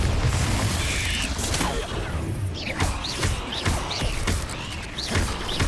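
Bombarda explosion spells cast in the Hogwarts Legacy video game land as a rapid series of sharp blasts and crashing impacts, several bursts in quick succession over busy combat noise.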